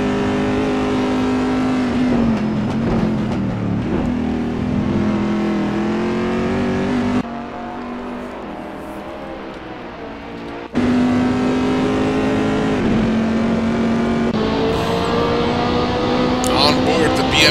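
Race cars, including a Chevy Corvette, lap Imola in Gran Turismo with a loud continuous engine drone that rises and shifts pitch through gear changes, with a brief drop in level midway.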